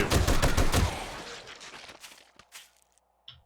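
Automated turrets firing in 7 Days To Die, a dense rapid burst of loud shots that thins into a few scattered single shots and then near silence.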